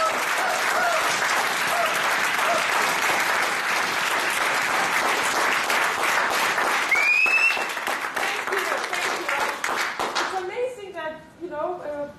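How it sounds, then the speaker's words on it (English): Sustained applause from a Toastmasters club audience at its 200th meeting, dense steady clapping for about ten seconds before thinning out, with a brief whistle near the middle and voices emerging as it dies down. "let's give ourselves a big round of applause"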